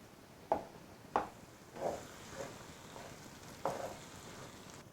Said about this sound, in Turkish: Toplamda yaklaşık bir 15-20 dakika kavurmuş olduk harcımızı